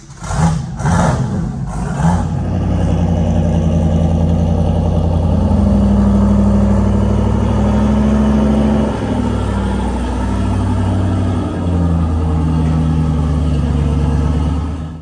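A Ford Mustang Fox body's engine idles and revs at low speed as the car is driven up into a trailer, a steady close rumble and whir after a few opening knocks, no voices.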